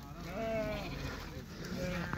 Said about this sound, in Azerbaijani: Bax bunların hamısı birinci qarına doğur. Görürsünüz bax quzular.